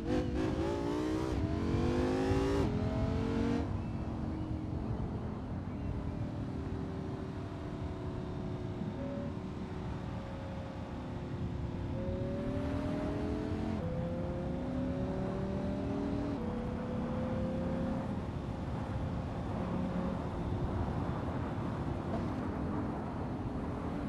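A BMW M4 engine in a driving game, revving hard through repeated gear shifts, its pitch climbing and dropping several times as the car accelerates, steady and close with no talk.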